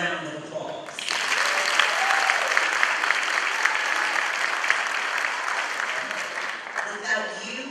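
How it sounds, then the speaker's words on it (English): Graduating students and guests at a community college commencement break into loud, dense applause after a brief quiet start, clapping steadily across the hall before tapering off near the end. "I want you to give yourselves a round of applause"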